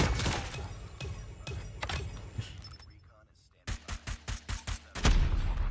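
An AS VAL rifle fires in Call of Duty Mobile in a quick run of about six evenly spaced, close suppressed-sounding shots, followed by a louder burst, after a stretch of mixed gunfire and game noise.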